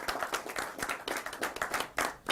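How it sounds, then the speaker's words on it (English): Applause for high school cheerleaders from Bakersfield Christian High School, a short burst of clapping from a small group, close and uneven. "Give it up for your cheerleaders."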